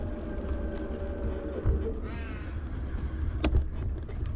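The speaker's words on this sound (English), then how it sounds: "So our friend Mr. Crow is saying hello" Crow cawing beside a river, a couple of short harsh calls heard over steady wind and water noise outdoors.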